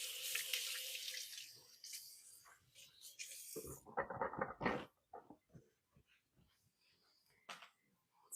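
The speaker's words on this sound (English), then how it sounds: "Let me wash my hands." A kitchen sink tap runs at full flow while hands are washed under it, a steady splashing hiss that cuts off after a few seconds, followed by soft drips and small handling sounds.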